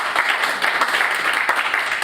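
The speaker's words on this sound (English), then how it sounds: "so please give him a quick round of applause" Audience applause at a live expo event, a dense steady wash of clapping throughout, moderately loud and fairly close, with no talk over it.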